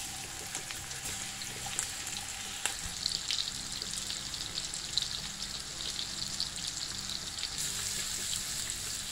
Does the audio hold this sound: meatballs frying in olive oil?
yes